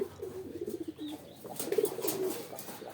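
Pet pigeons, including a Maxi racer, a Chila pigeon and Giribaz pigeons, give soft, low throaty coos in short repeated bursts, faint against the quiet of their loft.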